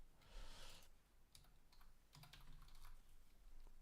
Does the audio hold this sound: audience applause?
no